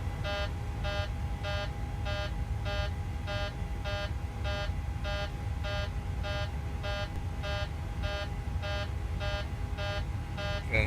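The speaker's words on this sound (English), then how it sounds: "not sure why we're getting a cabin altitude alarm" A cabin altitude warning sounds in a flight simulator game during the climb out of Albuquerque, as a steady run of short, evenly spaced electronic beeps repeats about twice a second for the whole stretch.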